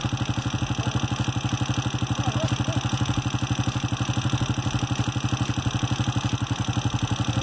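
A four-stroke motorcycle engine idles steadily with an even, rapid low thumping and light mechanical clatter during carburetor adjustment, close up and unbroken.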